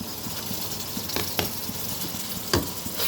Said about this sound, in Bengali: সব একসাথে একটু ভেজে নেব